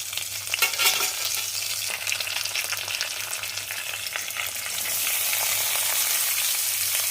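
Cabbage with green chilies and curry leaves sizzles steadily in a hot pan while being stirred, a continuous close frying hiss with soft scraping of the spoon throughout.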